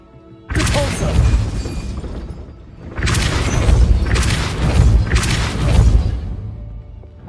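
A Depulso spell is cast in the Hogwarts Legacy video game, giving a loud whooshing burst followed after a pause by a longer series of booming, rumbling magical blasts.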